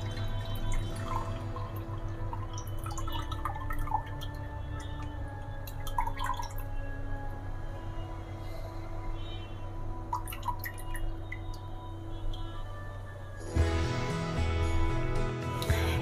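Buttermilk drips from freshly churned butter into a bowl, with sparse clear drops falling over a steady low hum, followed by a louder burst of liquid noise at the end.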